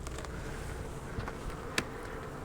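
Honey bees humming inside an open beehive during winter preparation while two hives are combined, a steady low drone close by with a few faint clicks and one sharp tap.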